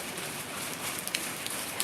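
Rain falling outside in early morning, a soft steady hiss with scattered faint drips and taps, distant and without voices.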